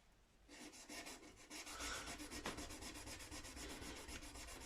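Frets on a 1968 Gibson SG guitar being polished make a quiet, rapid back-and-forth rubbing, a steady rhythmic scrubbing heard up close and alone.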